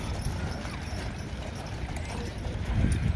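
Steady clip-clop of horse hooves on a hard surface, a brisk even rhythm at moderate distance, with faint background murmur.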